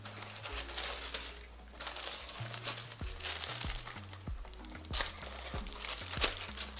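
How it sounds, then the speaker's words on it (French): Crinkly foil paper rustles and crackles up close as it is unfolded, in a series of short crisp bursts. "On ouvre la petite feuille d'or."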